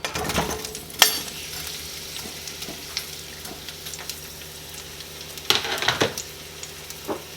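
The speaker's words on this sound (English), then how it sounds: "I'm going to be cooking the vegetables that take the longest to cook, which is of course the red onion." Red onion sizzles in a hot pan, a steady soft frying hiss broken by a few sharp clinks and stirring scrapes, fairly close with no talking.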